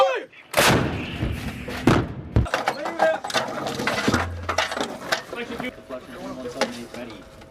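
U.S. Marines artillery fires during training: heavy booming blasts, one early and another around the two-second mark, each trailing into rumbling echoes, with shouted voices in between.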